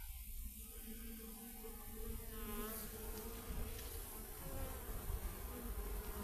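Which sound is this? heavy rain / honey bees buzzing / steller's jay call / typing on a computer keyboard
honey bees buzzing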